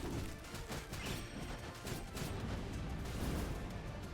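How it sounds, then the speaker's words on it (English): Explosions in Skul: The Hero Slayer, a dense, continuous run of crashing blasts and impacts that stays loud throughout. "Man, that explosion is hitting deep."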